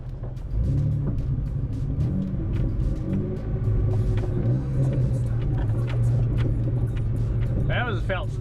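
Overland 4x4 vehicle descending a sand dune slope at Herekino, engine rumbling low and steady with throttle changes, close and continuous, while people talk inside.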